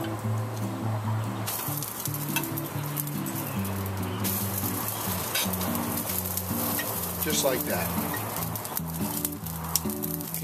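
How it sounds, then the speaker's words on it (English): Corn on the cob sizzles steadily over aluminum foil on a grill at around 375 to 400 degrees, a continuous close frying hiss beneath a layer of music, with a voice speaking briefly. "Can you hear that sizzle?"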